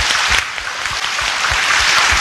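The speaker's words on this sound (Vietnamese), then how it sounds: "xin cộng đoàn cho chú anh một cái tràng pháo tay" Congregation applause during a Catholic sermon in a church, a dense steady wash of clapping filling the whole stretch with no talk over it.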